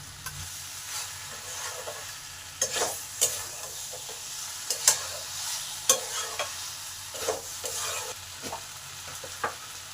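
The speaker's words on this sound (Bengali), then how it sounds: "আলুটাও একটু কষে নেব।" Potatoes sautéed in a pan for a squash and potato curry, a soft steady sizzle with repeated spatula stirs and scrapes against the pan.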